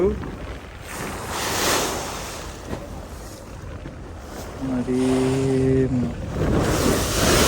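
Rough monsoon waves churn on the Padma river, a loud, steady roar of surf and water heard from a boat amid heavy wind buffeting, with a brief tonal hum rising near the end.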